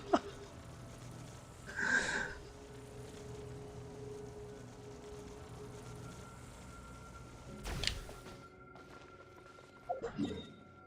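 A sleeping cat snores in a few soft, wheezy bursts spread across a quiet room. Faint clicks and rustles come between them, and nobody speaks.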